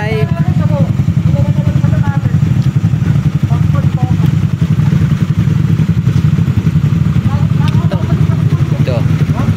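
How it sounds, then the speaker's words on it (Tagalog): Big bike motorcycles arriving at the 1st Gayang Adventour 2024 event: a steady, loud engine rumble runs throughout with clattering thumps, while people talk over it. "Mga big bike ito."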